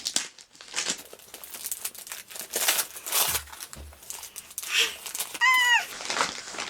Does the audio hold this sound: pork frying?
no